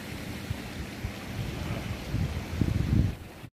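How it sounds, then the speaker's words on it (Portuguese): Heavy rain sweeps over a river during a stormy fishing outing, a dense steady hiss with low thunder rumbling that swells and grows louder toward the end, with no voices. "Aí ó, vem muita chuva."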